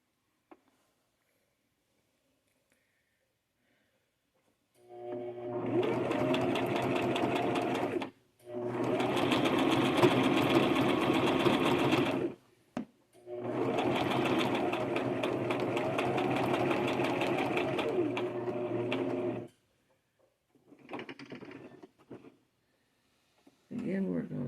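A sewing machine stitches a purse in three long, loud runs separated by brief pauses while the work is turned, followed by a couple of shorter stitching bursts.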